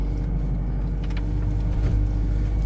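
Isuzu D-Max 2022 3.0 manual 4x4 pickup truck driving in second gear, a steady low diesel engine rumble heard from inside the cab, close and even throughout with faint rattles.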